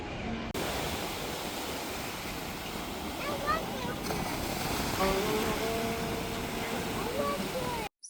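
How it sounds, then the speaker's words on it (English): Ocean waves at the Clearwater Beach pier form a steady, broad hiss and wash of surf, with faint background voices. "You hear the waves, Sonny?"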